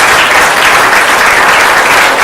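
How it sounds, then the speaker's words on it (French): Wedding guests at a civil marriage ceremony burst into loud, dense applause right after the vows, steady clapping filling the room throughout. "On peut applaudir, oui."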